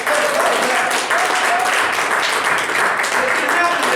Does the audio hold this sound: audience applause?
yes